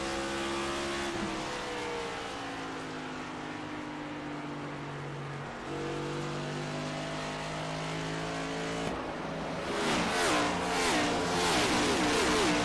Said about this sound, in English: You're riding on board with the kid down the back straightaway here at Phoenix.